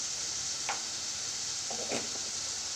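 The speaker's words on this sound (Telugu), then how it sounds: "ఇది ఒక 5 మినిట్స్ దాకా చిన్నగా లో ఫ్లేమ్లో మగ్గనిచ్చుకుందాము టమాటాని" Tomatoes and drumstick pieces cooking slowly on a low flame in a pan for a curry, giving a faint steady sizzle with a few soft stirring scrapes near the end.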